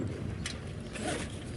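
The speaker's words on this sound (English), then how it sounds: "This is just a zipper" A zipper on a jib sail cover aboard a sailboat is pulled open in a couple of quick, close rasping strokes, heard alone and fairly quiet.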